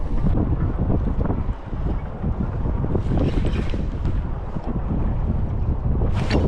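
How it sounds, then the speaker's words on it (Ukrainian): Heavy wind buffets the microphone on a pier while fishing, a constant loud roar with gusty surges, drowning out everything else. "Цей вітер прям дуже не в тему"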